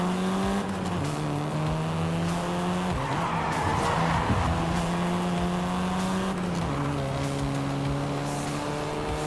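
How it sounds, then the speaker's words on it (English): A seventh-generation Volkswagen Golf R driving in a video game, with an engine whose pitch steps up through gear changes and tires squealing and skidding in a close, continuous run. "This version is the Volkswagen Golf R,"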